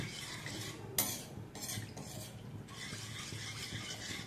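A spoon stirs pink sauce pasta with half a cup of milk in a pan, making a few clinks and scrapes against the metal with a soft wet swish in between, quiet and close.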